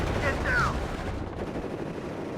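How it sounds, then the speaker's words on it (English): Gunfire from a WARNO real-time strategy battle between infantry units, a short burst of rapid shots up close at the start that fades into a lower rumble. "We're seeing a firefight between my units and theirs."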